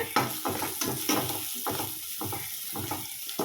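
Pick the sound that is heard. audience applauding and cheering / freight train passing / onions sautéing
onions sautéing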